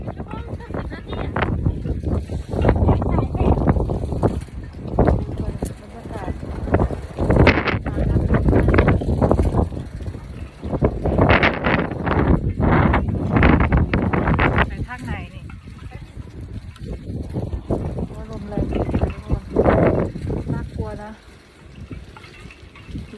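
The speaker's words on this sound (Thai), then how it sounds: "ลมญี่ปุ่นเนี่ยลมแรง" Strong wind in Japan buffets a microphone while cycling, roaring in heavy, gusting bursts that rise and fall over twenty seconds, with a person talking throughout under the blustery rush.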